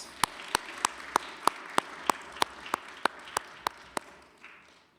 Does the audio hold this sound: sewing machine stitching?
no